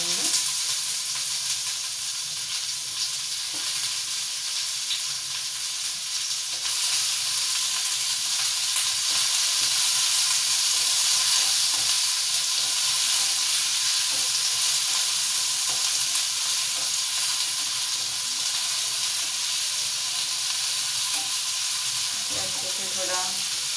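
Chopped onions hitting hot oil with whole spices for a curry gravy, making a loud, steady, dense sizzle that holds evenly throughout with occasional stirring scrapes and no talking.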